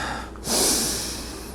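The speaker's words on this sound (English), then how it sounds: "Let's breathe in." A person takes one deep breath in during a guided breathing exercise: a short, close, airy inhale that swells suddenly and then fades, with no speech.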